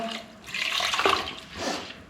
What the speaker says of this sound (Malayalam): എന്നിട്ട് നമുക്ക് വെള്ളം ഒഴിച്ചു കൊടുക്കാം